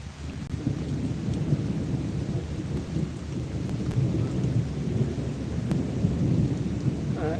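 Steady heavy rain pours over the Padma river during a storm, with deep thunder rumbling continuously underneath and no voices.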